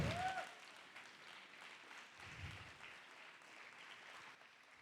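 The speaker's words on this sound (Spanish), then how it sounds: "Dale un fuerte aplauso a Dios, por favor." A church congregation breaks into loud applause, a dense, steady wash of clapping from a large crowd that carries on for the whole stretch, swelling slightly midway before easing off near the end.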